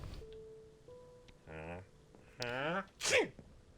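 A single sharp sneeze near the end of a quiet stretch, preceded by faint tones and short voiced sounds from a game.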